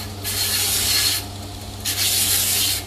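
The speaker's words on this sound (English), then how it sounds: "Doing battle with the 40 grit zirconia Ipe tilling belt." A 40 grit zirconia belt sands an Ipe wood spear handle in two rough, hissing passes over a steady machine hum, close and moderately loud with no voices.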